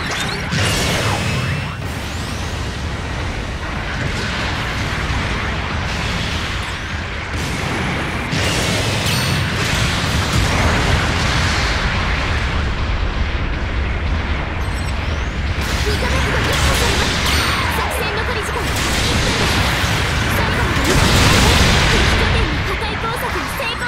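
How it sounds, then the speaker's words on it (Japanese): A support artillery bombardment in Gundam Battle Operation 2 keeps up a loud, continuous barrage of booms, crashes and whooshes, mixed with mechanical clatter, for the whole stretch. "後方部隊からの支援砲撃が来ます。"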